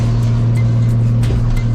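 Car engines at the Daikoku car meet in Japan rumble steadily under a deep low drone, with a few brief revs rising from nearby vehicles; no one talks.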